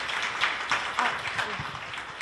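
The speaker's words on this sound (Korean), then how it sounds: "박수 부탁드립니다." Audience applause at a Korean corporate arts and culture forum as a Nexon Korea welfare team leader is welcomed on stage, a dense, steady wash of clapping filling the short moment.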